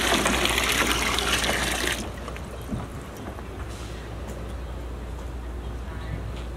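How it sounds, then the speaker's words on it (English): Water gushes loudly into outdoor water bins at a preschool on a sunny morning, the strong rushing flow dropping to a softer, steady trickle and splash partway through. "we are filling our water bins."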